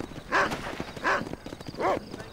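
Three rhythmic bursts of horse hooves and snorting from a horse in the video game Red Dead Redemption, fairly close and steady, with no talk over them.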